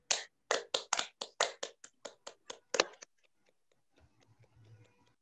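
Clapping for poetry reading contest participants: about a dozen crisp, close hand claps in an uneven rhythm that stop abruptly, followed by near silence with faint background noise.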